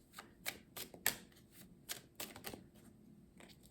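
During a tarot reading, a card is laid down over another card, giving soft papery taps and flicks in an irregular series, quiet and close.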